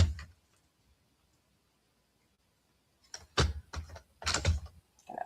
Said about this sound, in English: So we'll bring our trimmer up again.